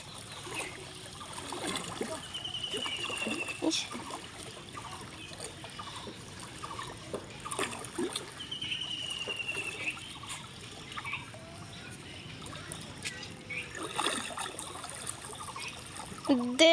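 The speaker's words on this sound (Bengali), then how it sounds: "এই জায়গাটায় আর কি এরকম শব্দটা হয়ে আবার জলটা বেরোইতেছে" Floodwater forces its way out of one spot in a road, a faint, steady trickling and gurgling that runs throughout with occasional voices nearby.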